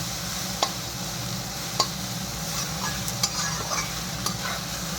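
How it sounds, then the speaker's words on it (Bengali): Taro leaves fry with grated coconut in a pan: a steady close sizzle broken by occasional sharp spatula taps and scrapes. "কচু শাক দিয়ে নারকেল ভাজা"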